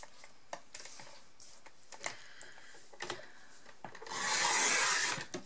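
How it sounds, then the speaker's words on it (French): Paper trimmer slicing through scrapbooking paper, a broad rasping cut of about a second near the end, preceded by scattered light ticks and taps of handling, fairly quiet with no talk. "Le massicot. Et on découpe."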